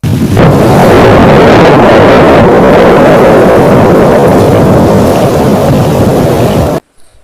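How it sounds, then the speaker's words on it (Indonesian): A volcano erupting with a loud, continuous roaring rumble that holds steady for nearly seven seconds before cutting off abruptly into silence. "bunyi gunung meletus."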